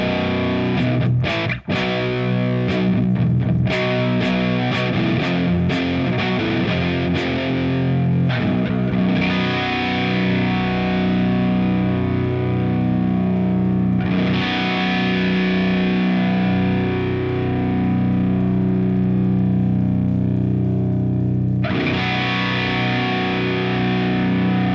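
Heavily distorted electric guitar through a Line 6 Doom amp simulation for stoner and doom rock, thick sustained chords with a few sharp muted stabs early on, loud and continuous with fresh chord attacks partway through and near the end.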